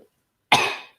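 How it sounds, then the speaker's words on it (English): A single sharp cough, close and fairly loud, after a moment of silence. "Why did I just cough?"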